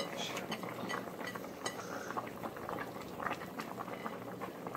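Corn soup boils in a pot, giving a dense, bubbling, busy texture with small pops and an occasional light clink of a utensil, fairly quiet and unbroken throughout without speech.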